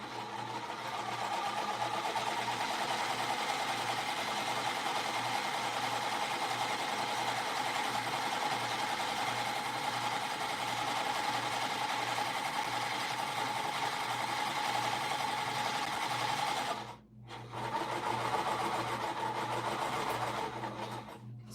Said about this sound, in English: So I'm sewing with Gutermann thread